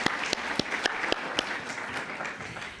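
A conference audience applauds a presenter, a sustained crowd clapping with a few sharp, close individual claps cutting through the steady patter.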